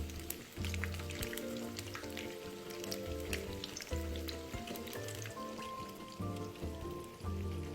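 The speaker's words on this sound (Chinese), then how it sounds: "一直油炸至豆腐块金黄色后，再将炉调至高火，让油炸后的豆腐起逼油效果。" Tofu cubes deep-fry in a wok of oil with a dense, continuous sizzle and fine bubbling crackle, close and moderately quiet, with occasional stirring clinks and no talk.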